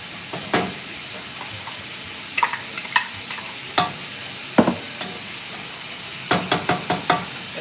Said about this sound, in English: And then I'm going to stir up this rice.